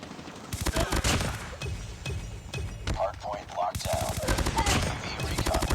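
Rapid bursts of Type-25 automatic rifle fire in a first-person shooter game come in quick repeated volleys with brief pauses between them, loud and close.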